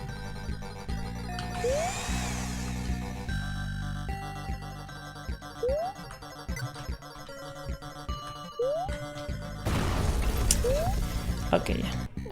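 Mechanical drilling from a video game rattles and whirs in repeated bursts, each one ending in a short rising chirp, with a heavier grinding stretch near the end, all layered over game music.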